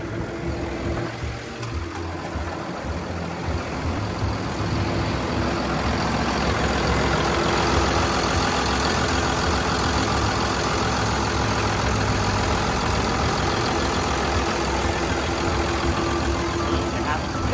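Komatsu WA380-7 wheel loader engine running at a steady, loud, low drone with constant heavy rumble throughout, close to the machine, with someone talking over it.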